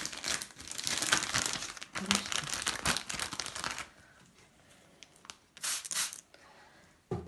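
A small plastic bag crinkles and rustles up close as it is wrapped around a lemon tree branch, a dense burst for several seconds, then quieter with short crinkly bursts near the end.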